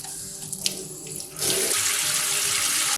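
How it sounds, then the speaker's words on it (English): A tap turns on and warm to hot water gushes steadily into a pot, filling it about halfway, a bright hissing splash close by. "I'm going to fill this about halfway with warm to hot water"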